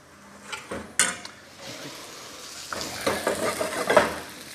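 Caramelised onion relish, seasoned with salt, cooks slowly over low heat in a pan. A soft, steady sizzle runs throughout, with occasional stirring scrapes and light metallic clinks, and nobody talks.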